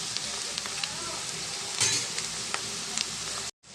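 Onions frying with turmeric in a pan: a steady close sizzle with light stirring scrapes, ending abruptly.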